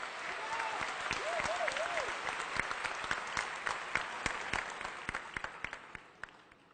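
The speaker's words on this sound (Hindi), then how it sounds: "तालियों के साथ पीछे की कतार से।" Audience applause from the back rows at a Hindi-language event, dense steady clapping that thins into scattered individual claps toward the end, with a brief voice rising over the noise early on.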